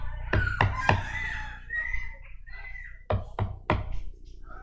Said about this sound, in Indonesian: Ada yang mengetuk.